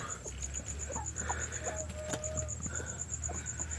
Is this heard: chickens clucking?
yes